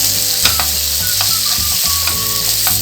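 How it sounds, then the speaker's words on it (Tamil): Leftover string hoppers (idiyappam) being stirred in a frying pan as a kichadi, a steady loud sizzle with repeated scraping strokes of the spoon against the pan. "இப்போ நம்ம இடியப்பத்தை போட்டுக்கலாம். போட்டு நல்லா நம்ம கிளறி விட்டுறணும்."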